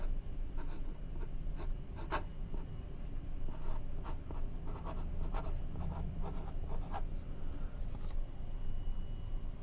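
A pen writes by hand on a planning sheet for a superhero-themed cross stitch game, steady scratchy strokes with small taps repeating close by across the whole stretch, no one speaking.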